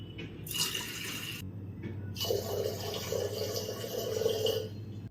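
Water poured from a vessel for making rice burfi, a steady splashing pour heard close up in two bursts with a short pause between them, no talking.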